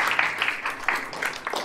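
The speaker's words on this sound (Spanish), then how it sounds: "Un aplauso para la nena" Brief clapping from a children's magic show audience, a short patter of claps in a room, moderately loud and uneven.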